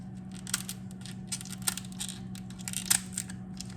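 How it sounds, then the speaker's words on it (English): Kitchen shears cutting down the middle of a lobster shell, a series of faint crisp snips and cracks in irregular bursts over a low steady hum. "We want to cut this shell, but you're not wanting to cut the meat."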